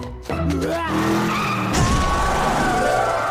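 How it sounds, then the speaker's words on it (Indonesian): Car skidding and striking a man in a 2020 action comedy film scene, a sharp tire squeal followed by a loud swelling vehicle roar and impact noise, brief and intense over music and voices. "Saat mengejar, Endosan ketabrak mobil."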